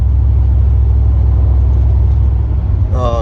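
A 1991 Buick station wagon engine idles steadily with only a round air breather clamped on the throttle body, giving a loud, even low rumble that holds constant before a brief higher tone near the end.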